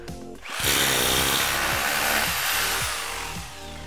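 A power drill drives a plug and screw into a steel frame for plasterboard wall lining, starting after a short pause and whirring loud and close at a steady pitch for about three seconds, with no talk.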